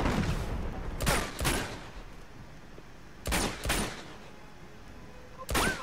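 Heavy bursts of gunfire crack out during cover shooting in Uncharted 2: Among Thieves, in a couple of loud paired volleys separated by quieter stretches of ambient battle noise.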